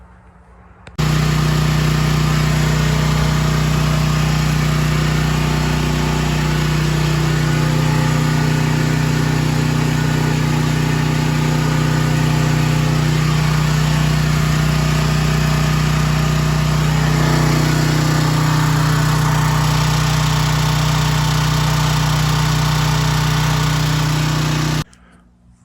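Portable generator engine running steadily, powering a homemade double powder coating oven, a loud constant hum with a strong low drone that starts abruptly, holds for about twenty-four seconds and then cuts off, with no talking.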